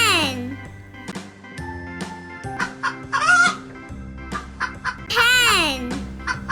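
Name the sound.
hen clucking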